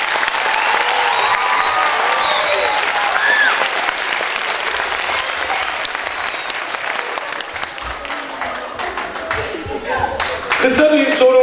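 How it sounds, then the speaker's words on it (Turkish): An audience at a national culture quiz final bursts into sustained applause, many hands clapping steadily together, with cheers and a voice rising toward the end. "önce bir moral alkışı alalım"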